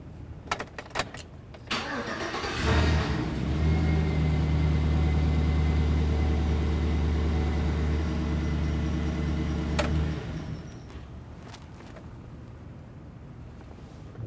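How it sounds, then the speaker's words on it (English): A 2007-2013 Chevrolet Silverado 1500 with a 5.3L V8 cranks briefly, catches and idles with a steady low rumble for about seven seconds before shutting off, leaving faint background clatter. "go ahead and start up the vehicle. Let it run for approximately 5, maybe 10 seconds and turn it right back off"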